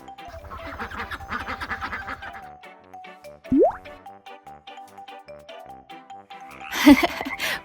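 A squeaky toy duck quacks during bath-time play in a couple of short, bright squawks, separated by quiet splashing and small drips nearby.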